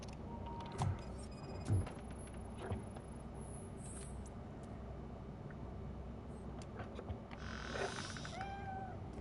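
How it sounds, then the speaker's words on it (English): A cat meows in the Robocop Rogue City video game, a few short faint mews scattered over a low quiet game ambience, with small clicks and a brief chirp near the end. "The cat is fine."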